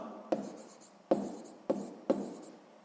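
Pen marks are made by hand on paper in four short, sharp strokes, each a quick scratch that fades out, spaced unevenly and heard up close in a quiet room.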